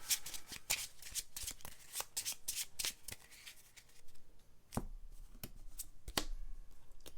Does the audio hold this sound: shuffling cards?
yes